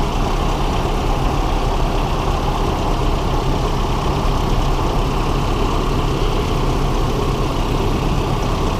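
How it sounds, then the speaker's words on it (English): A heavy truck engine idles close by with a constant, low, even rumble throughout, no talking over it. "Okay, truck is idling."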